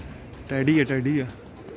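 A single pigeon gives a short, close, warbling coo lasting under a second over quiet background noise.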